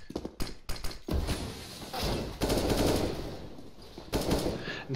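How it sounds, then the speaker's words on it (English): Rapid automatic rifle fire from CS:GO, with AK bursts sounding in loud, dense volleys, a short broken spray of shots at first, then longer sustained strings of shots separated by brief pauses. "That's the second time he's shooting at a wall that you cannot wallbang"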